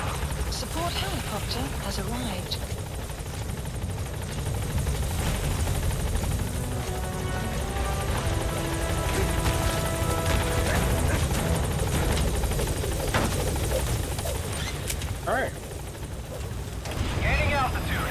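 The B-Quad support helicopter in Metal Gear Solid 5 arrives at the landing zone with a loud, steady rotor drone that continues throughout. A radio voice and a player talk over it, with scattered game effects.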